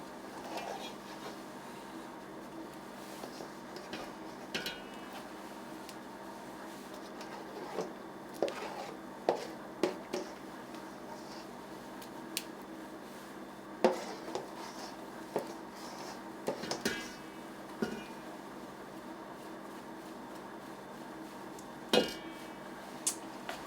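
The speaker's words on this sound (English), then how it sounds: "Gonna scrape this off our bowl scraper" Chocolate pudding is scraped off a bowl scraper into whipped cream, with soft scrapes and occasional light clinks and taps of utensils against a bowl scattered over a quiet kitchen background.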